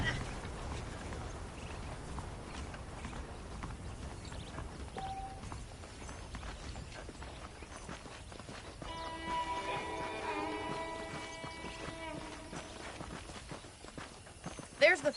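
Saddled horses clip-clop at a steady walking rhythm in the Red Dead Redemption video game, under continuous background sound with a faint musical tone late in the stretch.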